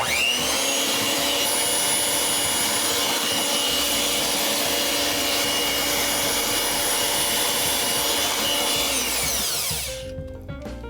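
A handheld electric mixer beats milk into creamed butter, sugar and eggs, a loud steady whir holding close and constant for about ten seconds before cutting off.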